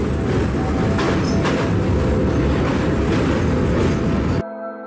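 A train rolls along a railway track in India, a dense, loud steady rumble of wheels and carriages running continuously, then cutting off abruptly near the end.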